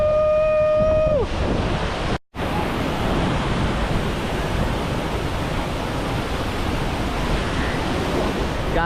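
A waterfall in upstate New York roars as a steady, loud broadband rush of falling water, continuous throughout apart from a brief dropout near the start.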